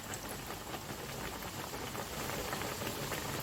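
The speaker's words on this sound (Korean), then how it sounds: "돈가스 한 잔씩 튀기겠습니다" Steady, dense crackling and sizzling of breaded pork cutlets deep frying in hot oil, continuous and fairly loud with no talking.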